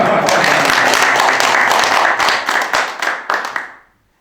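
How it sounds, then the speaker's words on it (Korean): A crowd at a political party meeting claps loudly in dense, continuous applause that thins into scattered claps and fades out within a few seconds. "박수 한번 크게 치시죠."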